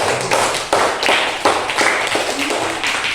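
A class of schoolchildren clapping their hands together in a classroom, loud and close, with sharp, fairly regular claps and a few stronger accented beats, no talking over them.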